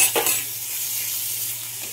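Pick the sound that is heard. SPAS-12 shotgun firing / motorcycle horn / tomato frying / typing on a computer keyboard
tomato frying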